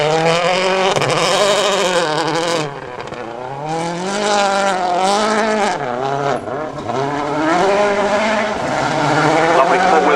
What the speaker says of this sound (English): Lovely 4-wheel drift from round and back around there and over the first of 2 jumps